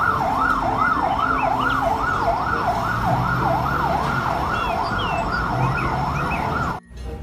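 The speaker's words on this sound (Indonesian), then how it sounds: "kita mendapatkan damkar pemadam kebakaran" A fire truck's wailing siren sweeps up and down in fast, regular cycles, loud and close over traffic rumble, then cuts off abruptly near the end.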